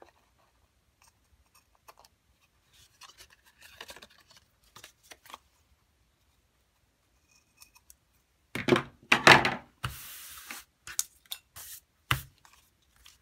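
Sharp ribbon scissors trim the edges of a quilted Christmas star card, giving a burst of close, crisp snipping and rustling near the end after quiet handling sounds.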